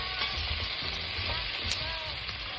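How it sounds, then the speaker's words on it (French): Potatoes being stirred and sautéed briefly in a pan for a soup, a steady close sizzle overlaid with low scraping and rattling from mixing, with faint background voice. "On mélange un peu et on fait revenir quelques instants,"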